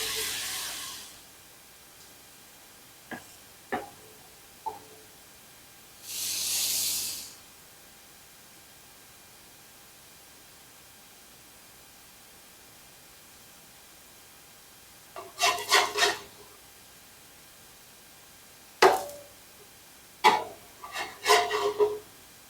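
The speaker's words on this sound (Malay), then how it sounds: "Sekarang kita nak goreng lempeng kita pula." Lempeng flatbread frying in oil on a pan gives soft sizzling hisses in short bursts, separated by long quiet gaps and a few light scraping taps, close and fairly faint.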